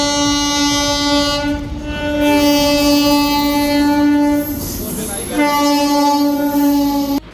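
A loud, sustained train horn blares with strong harmonic tones, breaking off briefly in the middle before sounding again, over busy railway ambience at Surat railway station.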